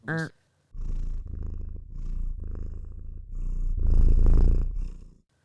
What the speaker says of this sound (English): He purrs so fucking loudly